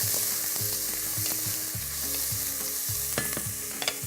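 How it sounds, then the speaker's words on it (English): Leeks and shallots sauté in olive oil for a risotto base, a steady close sizzle with scraping stir strokes and utensil clinks against the pan throughout. "Leeks, shallots, a little bit more oil. Give it a quick stir."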